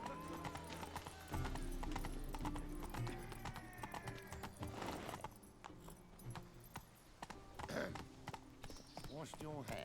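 Horse hooves clip-clopping at a gallop in The Witcher 3, a quick rhythmic patter of hoofbeats with a whinny, game music and scattered character voices layered over the running.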